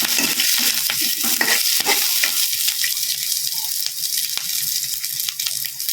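White onion frying in a pan for ginataang tilapia, a loud continuous sizzle with busy stirring and scraping near the start, settling into a steadier crackling fry.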